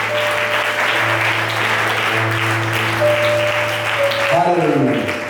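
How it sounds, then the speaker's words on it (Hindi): A church congregation claps steadily in praise, a dense continuous patter from many hands with a sustained tone and a rising musical note near the end. "क्या प्रभु को सराहना की ताली देंगे?"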